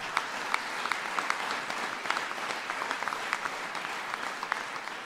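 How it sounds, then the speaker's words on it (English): An audience at a Foxconn investment announcement applauds: steady, fairly distant clapping from a large crowd, with scattered sharper claps standing out, without speech. "sure you can clap for that."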